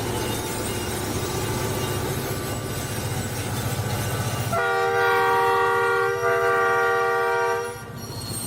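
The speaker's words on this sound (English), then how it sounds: "steam locomotive roared ahead beneath a cloud of thick black smoke." A steam train rumbles steadily along the track, then a long, loud horn blast sounds for several seconds before fading.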